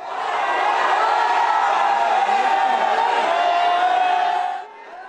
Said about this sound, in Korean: 드디어 선수단이 도착하자 공항은 환호성으로 뒤덮였습니다.